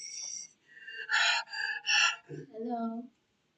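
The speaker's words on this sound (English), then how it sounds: "It's you breathing hard for me." A person breathing hard, in a run of loud, voiced gasps and heavy breaths at close range, each lasting a fraction of a second, with short pauses between them.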